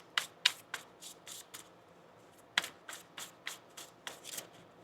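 Tarot cards are shuffled in quick riffling bursts, a rapid series of crisp slaps with a short pause midway, close and fairly quiet.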